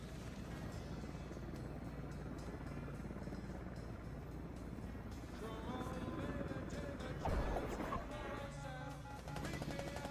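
A military helicopter in a first-person shooter game flies with a constant heavy rotor thump and engine roar, loud and steady throughout, with occasional gunfire and a narrator talking over it.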